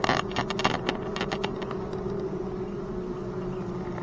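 Honeybees in an opened hive during an inspection two months in give a low, steady buzzing hum close by, with a few brief clicks of handling near the start and no talking.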